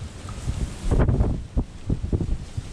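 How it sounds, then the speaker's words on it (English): Strong wind blows across open country at dusk while scouting for ducks along a dirt road, buffeting the microphone in loud, uneven gusts that rise and fall. "As you can see, it was blowing hard."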